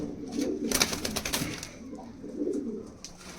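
Teddy Giribaz pigeons in a loft, cooing in a couple of soft, low bursts close by, with some brief fluttering or shuffling noise between them.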